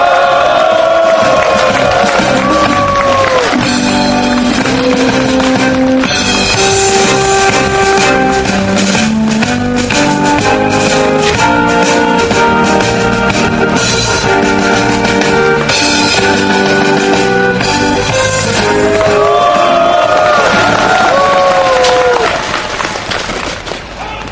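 Protest rally crowd outdoors in cold weather cheering and applauding as a speaker is introduced, a loud, sustained roar of clapping and shouts with music running underneath, continuing at full volume before fading slightly at the end.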